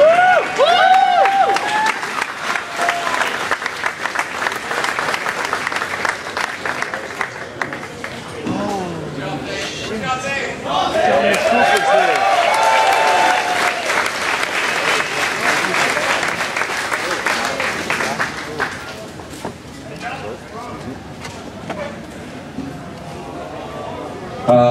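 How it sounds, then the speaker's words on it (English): Loud, sustained applause from a movie prescreening audience fills the room, dense clapping rolling on with scattered cheers and murmurs before tapering near the end. "So let's give him a round of applause again."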